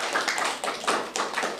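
An audience at a school event claps for a student who has just answered on stage, giving a short burst of uneven, moderately loud hand claps.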